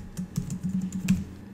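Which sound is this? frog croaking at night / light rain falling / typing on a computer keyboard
typing on a computer keyboard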